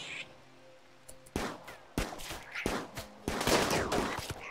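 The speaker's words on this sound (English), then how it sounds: "Good shot from the plasteel mini turret up top" Plasteel mini turret in the colony game RimWorld: a few loud, sharp gunshot bursts at irregular intervals after a quiet start, with some scattered background game sounds.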